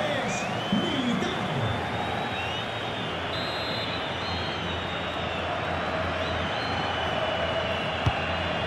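Stadium crowd in FIFA 23 during a Real Madrid versus Atletico Madrid LaLiga match, a steady roaring murmur with whistles and faint chanting under a commentator's voice.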